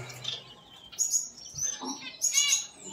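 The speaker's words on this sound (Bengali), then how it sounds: "আমার সেই কিং কয়েলের জোড়া" A pair of king quails on a small farm make short, high chirping calls in several bursts over a soft background hum.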